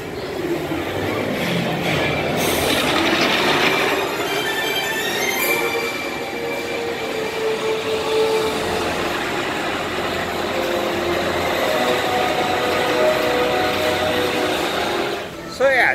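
The Mako roller coaster train at SeaWorld Orlando rumbles and roars along its track with rattling wheel noise, loud and sustained, with faint crowd chatter in the background.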